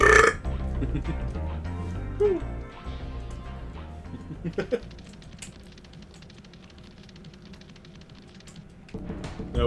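A long, drawn-out showy burp from a player during a Spyro the Dragon game stream, loud and close at first, then trailing off into a rumbling tail, with brief voices before and after.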